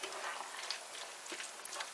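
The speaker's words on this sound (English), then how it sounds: "Just let that simmer for a couple of seconds." Chopped tomatoes simmering with mince meat in a curry pan: a quiet, steady sizzle and crackle with tiny pops.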